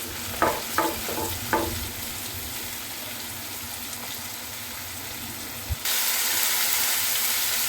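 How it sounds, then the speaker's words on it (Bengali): Onion, ginger, garlic and tomato paste masala frying in a pan for chicken do piyaza, a steady close sizzle with three quick scraping stirs near the start and a louder hiss surging near the end. "এটা এভাবে মশলাটা আমি ভাজতে থাকবো"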